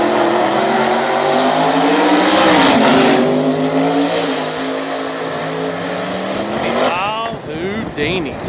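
Small-tire drag racing cars, a Turbo G-Body against Houdini, roar loudly at Dig Days VII, engines revving and rising in pitch through hard acceleration, with higher whining revs climbing near the end; close, dense and unbroken.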